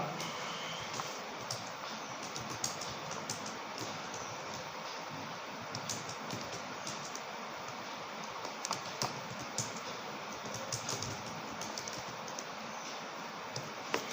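Typing on a computer keyboard while entering text in Microsoft Word, a continuous stream of quick, light key clicks at close range over a faint background hum.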